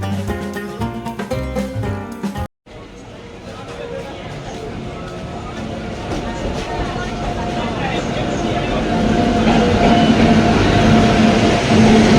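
An Indian passenger train on the line to Lalgola, running late, rumbles past with a broad mechanical roar that builds steadily louder and nearer over about ten seconds, after a brief burst of music at the start.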